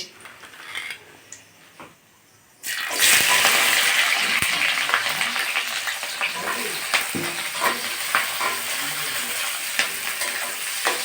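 Chopped onions hit a hot pan at once and keep frying with a loud, steady sizzle, joined by scattered clicks from stirring and from a utensil against the pan. The onions are for a mashed onion bharta.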